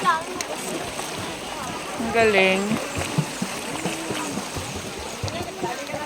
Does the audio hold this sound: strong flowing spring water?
yes